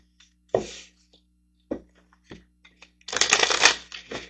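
Manifestation cards being shuffled, a few short separate riffles early on, then a longer, louder run of fast shuffling near the end, with no talking.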